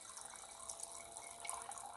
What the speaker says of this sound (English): Now we got just a little dribble there of water, right?